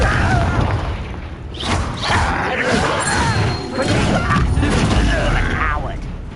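A Confringo blast spell explodes in the video game Hogwarts Legacy, a loud rumbling boom with crashing mechanical clatter that holds steady over several seconds amid dense game effects.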